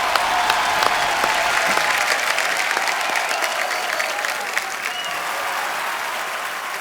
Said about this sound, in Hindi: गीता जी के लिए जोरदार तालियां।